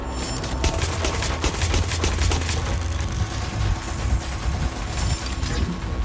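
Rapid gunfire bursts in the Watch Dogs: Legion video game, dense crackling volleys of shots rattling in quick succession over a rumbling low backdrop, loud and close, with a second cluster near the end.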